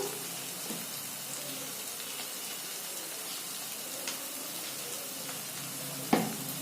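Prawn malai curry masala with golda chingri sizzles in a pan while being stir-fried, a steady, soft crackling hiss with occasional scrapes and clinks from stirring and a sharper knock near the end.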